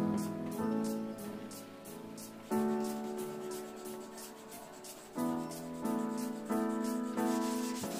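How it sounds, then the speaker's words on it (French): Finish sanding on a wooden serving tray: steady rubbing strokes in repeated passes, close and fairly quiet, with rhythmic rises as each stroke begins. "je peux passer au ponçage de finition"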